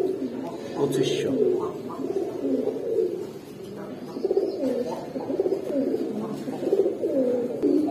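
Red Budapest highflyer pigeons coo in low, rolling murmurs at a pigeon farm, a steady overlapping burble while someone talks nearby.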